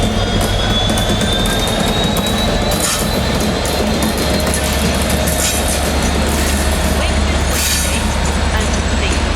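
A ten-coach train at Doncaster station, heard as a steady loud rumble of rolling stock with faint wheel squeal and rail clatter throughout, with a voice faintly present.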